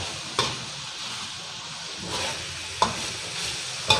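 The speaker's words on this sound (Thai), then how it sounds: "ผัดไปแล้วก็หยอดน้ำไปเรื่อยๆครับ" Pork belly with curry paste and long beans stir-frying in a pan, a steady sizzle throughout with occasional sharp scrapes and clinks of the spatula.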